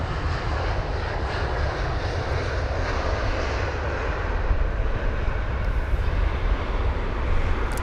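A twin-engine Airbus A319 airliner touching down at London Heathrow, a steady loud broadband jet roar that holds for the whole stretch, without any talk over it.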